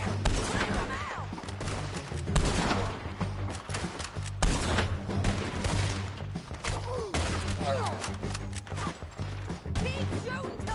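Scattered gunshots in a Red Dead Redemption 2 firefight, repeated cracks and thuds spread throughout under steady shouting voices and busy game sound.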